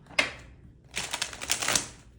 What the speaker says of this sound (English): I feel like I need one more shuffle.